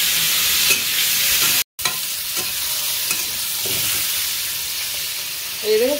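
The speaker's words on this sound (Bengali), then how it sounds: "এই দেখো হালকা হালকা ভাজা ভাজা হচ্ছে" Pointed gourd (potol) fries lightly in a pan with a steady close sizzle and occasional stirring scrapes, briefly cutting out once early on.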